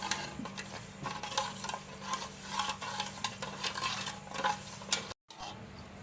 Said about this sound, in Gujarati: આવી રીતે હલાવીને આપણે ખાંડ ઓગળાવવાની છે